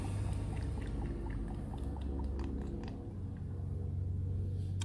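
Engine oil pours through a funnel into a Toyota Prius v in a soft, steady stream. The sound is faint and continuous, with a low background rumble and no talking.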